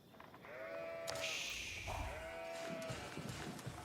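Sheep bleat in a strategy video game, a few drawn-out wavering calls sounding over steady game ambience, with no talking.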